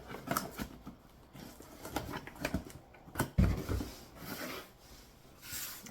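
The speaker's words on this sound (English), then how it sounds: "I got a pair of scissors here to open it up." Scissors cutting open a cardboard box: continuous scraping and rasping of blades through cardboard, with irregular crackles, rustles and a firmer thump midway, close up and with no voices.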